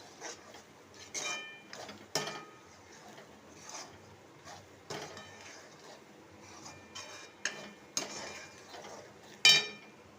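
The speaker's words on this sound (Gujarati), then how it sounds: "હવે આ રીતે આપણે હલાવી લેશું।" A spoon stirs red chili powder through a cooking dish, scraping and clinking against the pan in irregular close taps with quiet gaps between them.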